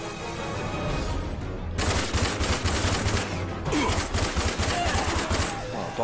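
Rapid gunfire in the video game RAGE rattles out in loud, tightly spaced bursts after a brief quieter lead-in, the shots crackling close and continuous with short gaps between volleys.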